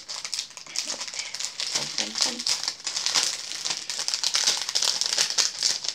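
Crinkly plastic packaging rustles and crackles steadily up close as a small packet of sea-themed paper cutouts is opened, with someone speaking over the handling.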